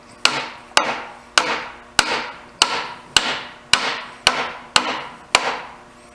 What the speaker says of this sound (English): you can see there you just tap it this way